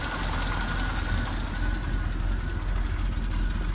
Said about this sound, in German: Also wie gesagt, der Motor läuft richtig gut.